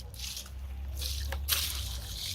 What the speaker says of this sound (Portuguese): Agora nós vamos jogar nela o nosso primeiro balde de água.